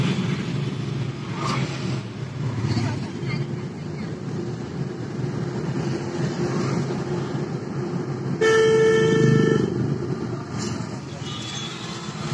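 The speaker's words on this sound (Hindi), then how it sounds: "रांची टाउन में तो ट्रैफिक का बोले इतना ट्रैफिक रहता है," Busy traffic in Ranchi town, with a steady roar of vehicles and a few car horns tooting, one longer honk standing out clearly near the end, while voices murmur underneath.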